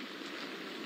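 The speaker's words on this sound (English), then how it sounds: "Broward County getting bombarded by rain Wednesday night." Heavy rain pouring down during a November storm in Broward County, Florida, a dense, steady hiss with no breaks, loud and close, and no voices.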